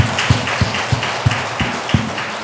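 A church congregation claps for the children during a revival meeting, with steady rhythmic claps about every third of a second over a dense crowd wash, fairly close and alone without talk.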